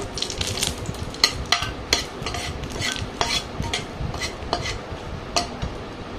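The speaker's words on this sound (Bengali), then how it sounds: "এখন আমি এখানে শুকনো মরিচ ভেজে নিব।" Dried chillies fry in a pan, with a steady low sizzle under repeated sharp clinks and scrapes of a metal spoon against the pan at an uneven rhythm.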